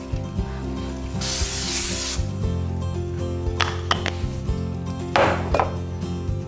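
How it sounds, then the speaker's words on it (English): Cooking spray is sprayed down onto baking pans for monster cookies in a kitchen, with two short hissing bursts, the first longer, over a steady background hum. "I'm gonna take some cooking spray and I'm just gonna spray down my pans a little bit"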